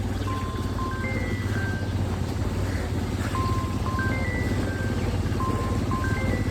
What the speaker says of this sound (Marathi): बेकार आहे आमची भिवंडीची ट्रॅफिक